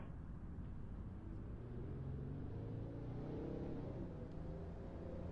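A video game car engine in Central Savannah River Alpha hums and revs steadily at a low, muffled level, with a continuous rumbling drone throughout.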